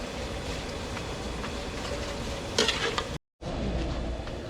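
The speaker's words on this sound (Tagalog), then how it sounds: "gigisa na natin itong ating karne" Meat being sautéed in a large pan for menudo at a catering service: a steady, dense frying sizzle fills the background, with a brief clatter of stirring near the end and a short cut to silence.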